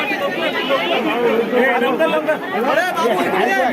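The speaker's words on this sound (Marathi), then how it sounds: "गर्दी" A dense crowd gathered for a Ganpati idol immersion in heavy rain in Lanja, Ratnagiri, producing a continuous loud murmur of overlapping voices and chatter with no pauses.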